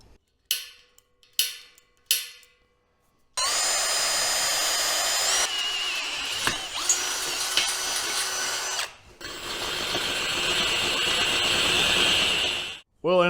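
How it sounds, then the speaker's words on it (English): A power drill whirs in long, steady bursts after a few sharp taps, grinding loudly through metal with a burr bit, with brief pauses between runs. "I ended up having to use the old burr bit to finish these holes off"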